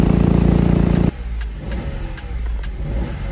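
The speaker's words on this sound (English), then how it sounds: "I'll insert the clip before of when it had an exhaust leak." A Vauxhall Corsa engine with an exhaust leak runs loud and close at first with a rough, pulsing drone, then drops abruptly to a quieter idle with faint ticking and rumble.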